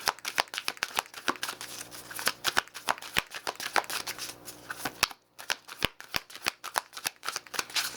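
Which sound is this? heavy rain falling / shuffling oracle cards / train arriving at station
shuffling oracle cards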